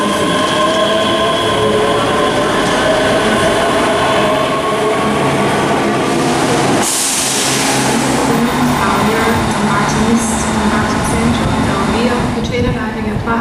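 A passenger train pulls into platform 4 of a UK station for a service to London Euston, a loud, steady rumble and hum of wheels and engines with a sudden hiss of air midway and voices over it.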